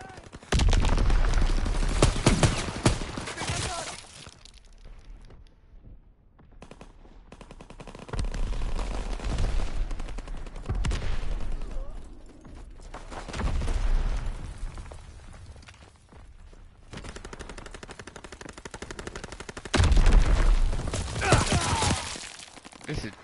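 Automatic gunfire from a player's weapon in a shooter game rattles in loud sustained bursts separated by brief lulls, with explosions and a voice talking over the fight.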